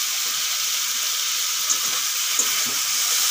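Green chilies going into a pan of fried ridge gourd and potato, giving a steady, bright frying sizzle that holds evenly throughout with a couple of faint pops.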